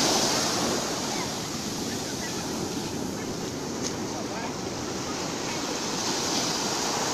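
Atlantic Ocean surf washing onto a Brazilian shore, a steady broadband roar with wind noise that holds evenly throughout, no distinct wave breaks standing out.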